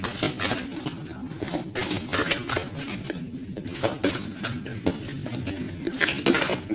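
Tarot cards shuffled and mixed by hand during a reading, giving a steady run of soft papery slaps and clattering riffles, close and fairly loud, with no talking.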